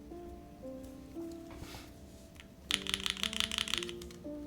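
Keys clack rapidly on a custom mechanical keyboard fitted with Cream Soda switches, a burst of crisp, close keystrokes after quieter tones and a faint background hum.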